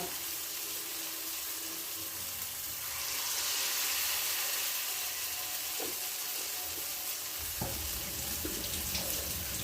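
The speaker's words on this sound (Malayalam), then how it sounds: "ഓരോ പ്രാവശ്യം എടുത്തിട്ട് ഞാൻ കൈ കഴുകും." Hands are rinsed under a running kitchen tap while making potato and rice bondas, a steady hissing gush of water with small splashes and clinks, fairly quiet and without talk.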